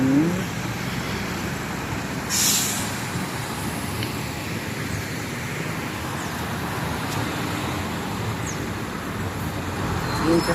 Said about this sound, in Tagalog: May traffic oh.